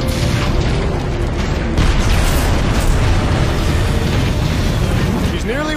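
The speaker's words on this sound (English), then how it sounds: "the shields are taking a beating from those warp cannons" Warp cannon blasts pound the Ark's shields during a battle in the video game Transformers: Fall of Cybertron, a loud, continuous barrage of deep booms and rumbling impacts.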